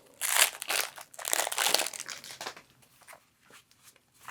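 Plastic wrapping torn and crinkled off a pile of cards from The Hunger: High Stakes card game expansion, close rustling bursts that are loud at first, then fade into a few soft crackles.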